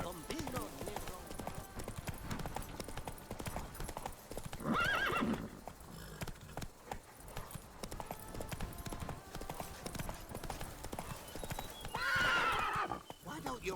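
Hooves of the horse Roach clip-clop at a steady gallop in The Witcher 3: Blood and Wine, with two loud neighs breaking through, while characters talk over the rhythmic pounding.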